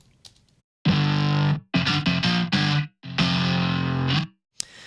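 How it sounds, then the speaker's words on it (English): Distorted electric guitar power chords crunch out in short rhythmic bursts for a rock track, loud and close, with brief silences between strums. "So this is distorted to give that a crunchy rock and roll kind of feel."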